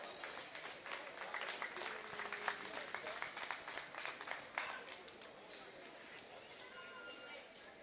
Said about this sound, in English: let's give the exhibitors a good round of applause